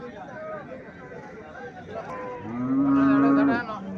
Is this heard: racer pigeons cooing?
no